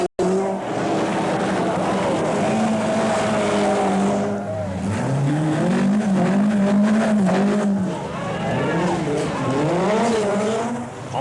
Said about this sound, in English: the surviving cars traverse the Turini for the last time